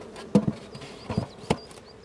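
Honeybees buzz around a hive frame while a small nucleus hive is set up during queen rearing: a faint, thin hum with a few soft knocks and rustles.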